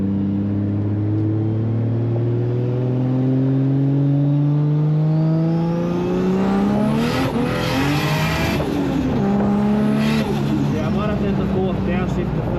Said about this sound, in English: Downshift to third, get some handbrake, we'll see how we go.